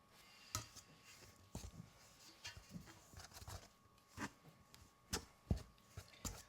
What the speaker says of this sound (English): I think I'll get out my pastry blender